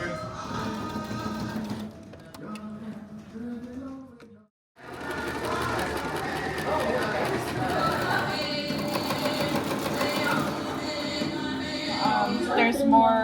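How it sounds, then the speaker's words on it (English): Sewing machine stitching bias binding onto the sleeve of a ribbon shirt, a steady mechanical whir that runs on with brief pauses and a short stop near the middle. "So we're sewing the bias onto the sleeve part."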